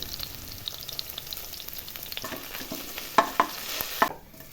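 Ginger and garlic sauté in a pan while fish biryani is cooked, making a continuous soft sizzle with a few sharp clinks of a stirring utensil against the pan.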